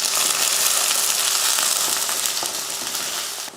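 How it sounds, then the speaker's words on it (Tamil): A large onion with garlic, green chilies, mustard seeds and curry leaves sautéing in oil in a kadai for idli kuzhambu, a dense, even sizzle close up that fades slightly at the end. "வெங்காயத்தை இது போல் நல்லா கருக விடாமல் வதக்கிக்கணும்"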